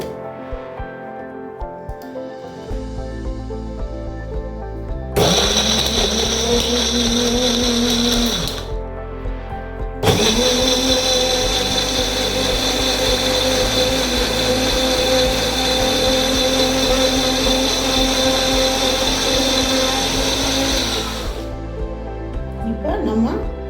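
An electric blender grinds dates with milk and honey into a milkshake, a loud steady whirring motor running in two bursts, a short one and then a longer sustained run, with brief pauses between.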